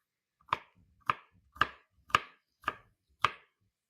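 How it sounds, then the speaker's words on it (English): A knife chops through vegetables on a cutting board in six evenly spaced, sharp strikes, close and distinct, each with a brief woody knock and nothing else around it. "we're going to cube these guys up"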